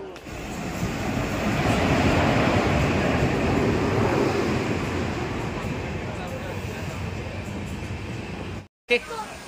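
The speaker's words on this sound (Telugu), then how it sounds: "ట్రైన్ ఏమో ఇప్పుడు వస్తూ ఉందండి" A passenger train arrives at a railway station, a loud, steady broadband rumble and rush that fills the scene for several seconds before cutting off abruptly near the end.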